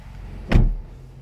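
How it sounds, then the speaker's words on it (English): Power sunshade closing inside a BMW X5 M, a brief soft motorized whir with a quick thump near the middle, heard close in a quiet cabin. "Let me close up the power sunshade here"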